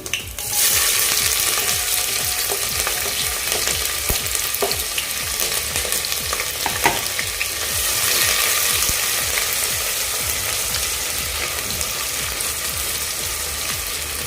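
Onion, green chilli and bay leaf fry in a pan with a loud, constant crackling sizzle that holds steady throughout with no talking.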